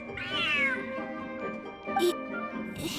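A large cat meows loudly in Genshin Impact, one long drawn-out yowl followed by softer meow sounds, with game sound effects around it.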